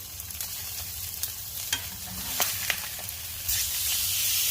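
A ribeye steak sizzles in a hot cast iron skillet just after being flipped, a steady broadband hiss with scattered pops and crackles that swells louder toward the end, no voices.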